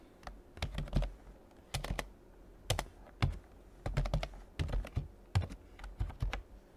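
Someone types CSS style code on a computer keyboard, with close clicking keystrokes arriving in quick bursts separated by short pauses.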